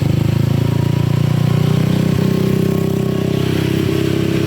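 A motorcycle fitted with a Kinochi power pipe muffler runs close and loud, a steady throbbing exhaust drone held under throttle with slight pitch shifts.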